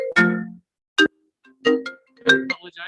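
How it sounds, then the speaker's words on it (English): A phone rings with an incoming call during a TREC meeting, giving several short, separate bursts of tone at irregular intervals with silence between them and no voices. "I apologize, I had a phone call just come in."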